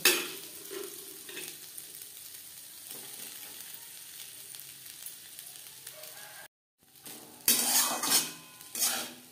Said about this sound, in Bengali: মিডিয়াম টু লো ফ্লেমে 3-4 মিনিট নাড়াচাড়া করে নেব।